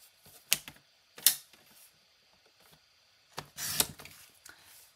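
Paper trimmer scoring card for an advent calendar box: three sharp, dry clacks of the blade and lever, close and crisp, separated by quiet pauses with faint handling noises.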